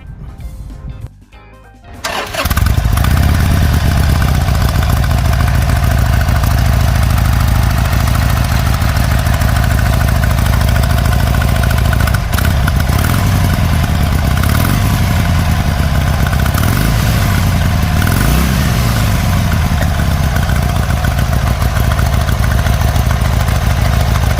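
A 2020 Harley-Davidson Sportster 883 SuperLow engine fires up and settles into a steady, deep idle, loud and close, with a low rumbling pulse and no voices.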